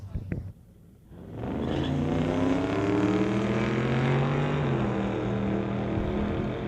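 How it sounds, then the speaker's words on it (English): Two drag-racing cars, a 1967 Chevrolet pickup and a Chevelle, leave the line with a loud sustained engine roar, their rising pitches layered together over several seconds as they run down the strip. "Tybro Constructors 1967 Chevrolet pickup going against Ron Clark out of Port Alberni in the Chevelle"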